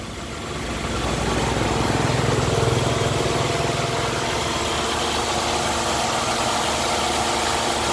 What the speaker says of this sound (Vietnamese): Máy nổ không gào nha, êm ha.